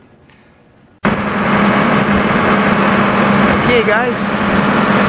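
A tractor engine starts up and runs steadily and loudly in a shop during a 1959 GMC Fleetside chassis swap, with someone speaking briefly over the idling drone.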